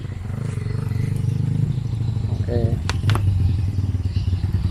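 A Honda Vario 110 scooter with leaking valves idles unevenly nearby, its engine chugging with rough, rattling pulses; someone speaks briefly over the running motor.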